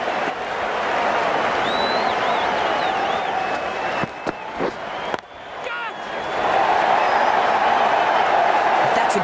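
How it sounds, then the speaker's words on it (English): Video game crowd at a cricket match in Cricket 19, a dense roaring cheer and applause that dips briefly, then swells louder again, with a commentator talking over it. "The crowd are loving this."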